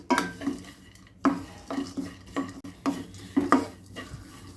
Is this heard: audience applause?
no